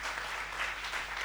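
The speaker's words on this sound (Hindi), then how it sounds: "एक बार तालियां होनी चाहिए सुरेश भाई साहब के लिए।" Steady dense applause from a crowd at a Hindi stage event, continuous and fairly distant, a brief even wash of clapping with no voices on top.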